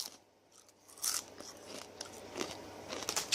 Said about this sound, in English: They have a nice crunch to them, as you can hear.